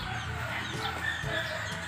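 Chickens cluck and murmur nearby in a busy, continuous stream over a noisy background, with no clear speech.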